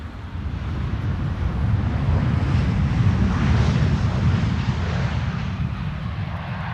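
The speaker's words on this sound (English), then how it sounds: "KLM Flight 1602 is next to land here" A KLM Boeing 737 lands at Amsterdam Schiphol with a steady, broad jet rumble and rushing wind noise, loud and close throughout.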